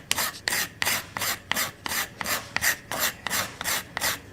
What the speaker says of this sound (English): I'm going to finish off with the scraper blade.